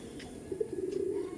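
Giribaj pigeons coo softly in a low, steady murmur close by, with no voices, the calls swelling midway through a short stretch.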